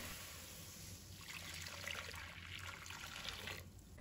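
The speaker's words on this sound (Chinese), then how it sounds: "接着锅中倒入适量的清水" Clean water pours into a wok, a soft continuous splashing trickle at low level with brief stronger gushes, no talk.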